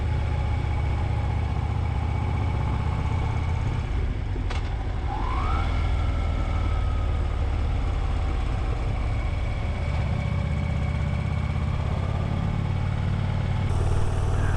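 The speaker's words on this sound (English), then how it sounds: "I was actually surprised for a big bike at how nimble this thing is. Handles the corners no problem." A big motorcycle engine drones steadily and loudly while riding along the winding US16A Iron Mountain road in the Black Hills, wind rush mixing with the constant engine note and a brief higher whine partway through.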